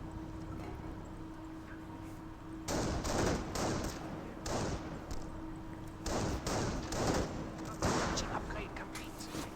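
Sniper shots and gunfire in a Company of Heroes battle, with a mid-distance mix of single cracks and bursts of fire over a steady low battlefield rumble and a talking voice.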